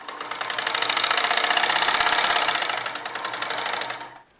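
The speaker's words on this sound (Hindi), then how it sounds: "लाइन में सिलाई" A sewing machine stitches a fitting line on a kurti, a loud, close, rapid rhythmic chatter that runs steadily for about four seconds before winding down.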